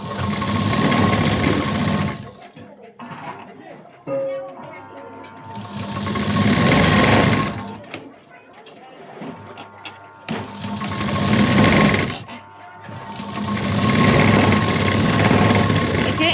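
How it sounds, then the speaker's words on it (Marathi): A sewing machine stitching a blouse seam, running over an earlier line of stitching. It whirs in three long, loud runs with brief pauses between them, and a person speaks quietly during the gaps. "आता इथे बरोबर शिलाईवरती शिलाई द्यायची."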